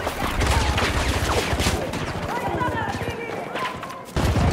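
Rapid bursts of PP2000 submachine gun fire in Battlefield 2042, dense and repeated across the clip, mixed with other battlefield shots while players talk over it.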